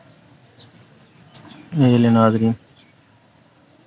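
A pigeon coos once, a close, loud, warbling call lasting under a second, with faint bird chirps around it and someone speaking briefly before it.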